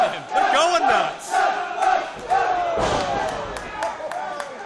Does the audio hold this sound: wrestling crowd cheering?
yes